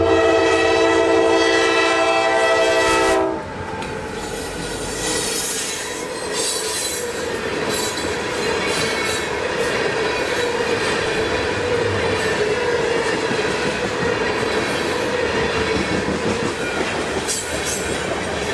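A freight train in Jacksonville opens with a loud, sustained horn blast, then rolls past close by with a steady roar of wheels, clattering cars and high squealing flanges that continue without letup, with no talk.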